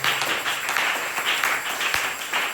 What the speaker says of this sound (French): Applaudissez encore pour le Seigneur.